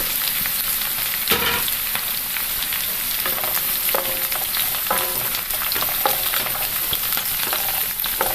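Ginger, garlic and green chilli sautéing in hot oil in a pan for a pickle, a steady close sizzle and crackle with occasional scraping stirs and clinks throughout, no talking.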